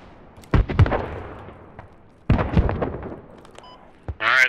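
Gunfire in the military shooter game Squad: a few sharp, loud shots and bursts with reverberant tails, separated by short pauses, with no talk over them.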